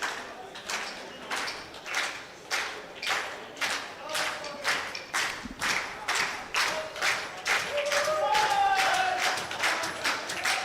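Spectators at a men's 10m air pistol gold medal final clap in rhythmic unison, steady regular beats that swell louder toward the end into fuller applause.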